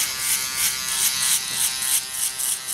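A Wahl Magic Clip Cordless hair clipper running close by, a loud steady electric buzz with a slightly pulsing rhythm and no pauses.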